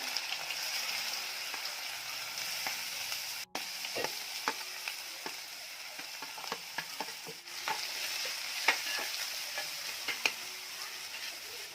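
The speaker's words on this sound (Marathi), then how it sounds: "तेल चांगलं गरम झालं की तेलामध्ये कांदा घालायचा" Chopped onions sizzle and crackle steadily in hot oil in a pan, with occasional stirring scrapes and sharp pops, a continuous close frying hiss throughout with no voices.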